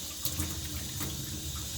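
Soap bubbles being rinsed off under steadily running tap water that splashes and hisses, close, with no speech.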